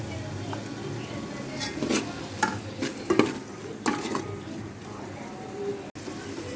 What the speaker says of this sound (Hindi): मसाला भुन जाएगा तो ये टमाटर और हरी मिर्चें,